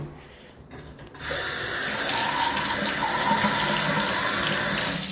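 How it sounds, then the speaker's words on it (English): A bathroom faucet is turned on in a house and runs steadily after a quiet second, a continuous close hiss of water into a sink with no talking. "Just figuring out if that faucet's leaking."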